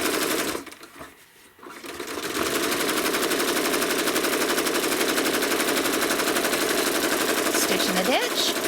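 A home sewing machine stitches in the ditch along a quilt seam, running in a fast, steady mechanical chatter that briefly slows and stops near the start, then runs on continuously and close.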